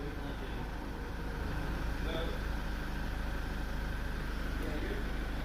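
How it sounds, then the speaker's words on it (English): SsangYong Musso diesel engine idling after work on a glow plug fault, a steady low rumbling drone with an even, continuous rhythm, heard close up and unchanging with someone speaking over it. "at least the engine's running nice now"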